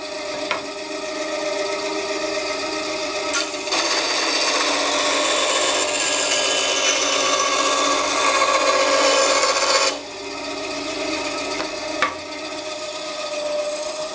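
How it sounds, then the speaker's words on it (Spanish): A band saw powered by an AllPowers S2000 portable power station cuts steadily through material, a continuous loud rasping whine for several seconds between quieter motor running and brief clicks, heard alone without speech. "nuestra estación de energía está tirando perfectamente de nuestra sierra de cinta"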